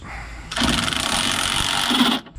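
An impact wrench loosens a factory bolt on a Jeep JL Sport S, one continuous rattling burst of about two seconds, loud and close, with no talk.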